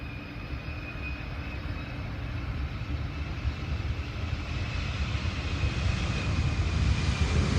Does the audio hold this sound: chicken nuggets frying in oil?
no